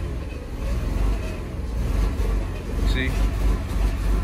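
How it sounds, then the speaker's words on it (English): A Rolls Royce Wraith engine idles and revs with the gas held down, a steady low rumble swelling and easing underneath someone talking close by. "I'm just holding the gas down. You can hear the motor."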